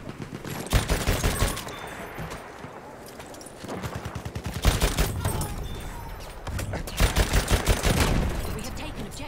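Heavy gunfire and explosions from a Battlefield 1 match, with dense bursts of rapid automatic shots and booming blasts coming in repeated waves, loud and close, with no talk over it.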